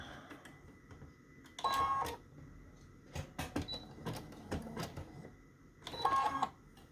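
Sewing machine running a big zigzag stitch over fabric and lace, short mechanical whirring bursts with pauses between them, fairly quiet and close, with clicks and handling noises.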